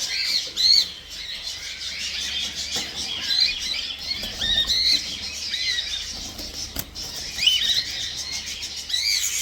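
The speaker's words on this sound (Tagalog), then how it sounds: "So yan mga kaibon." Many birds squawk and chirp together in a dense, continuous chorus, with overlapping calls that stay fairly loud throughout and no talking.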